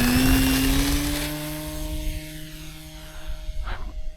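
An RC airplane's electric motor whines at high pitch with a steady tone that climbs and then holds as the model takes off at an RC club field, with loud wind rumble throughout.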